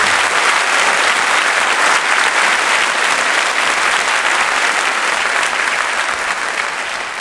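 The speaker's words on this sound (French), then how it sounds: "je vais vous demander de l'applaudir" A packed concert hall audience at the Olympia in 1970 gives loud, dense, sustained applause for a musician, a continuous roar of clapping hands that holds steady throughout.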